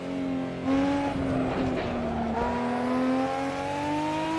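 Nissan GT-R engine droning in the racing game Assetto Corsa, a steady moderate-pitch tone that dips slightly and climbs again, with brief tire squeal and skid noise partway through, continuous and without talking.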